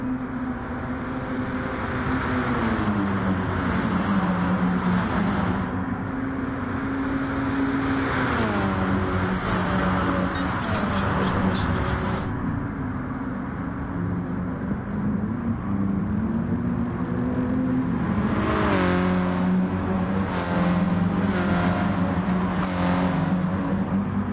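Race cars in GT Sport during an online VW Cup league race, engines droning and revving steadily throughout with rising and falling pitch as they shift gears, loud and continuous with no talk over them.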